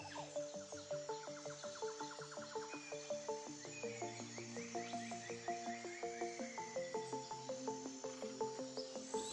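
Frogs in a wetland calling in a dense chorus, with rhythmic repeated croaks and trills layered over one another, steady and moderately distant, with insects buzzing faintly.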